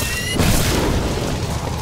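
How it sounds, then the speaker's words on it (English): A small bomb bursts in Bioshock Infinite, one loud, close boom that cuts off a thin tone and then fades into a rumbling, crackling tail. "That looks like it's a little bomb."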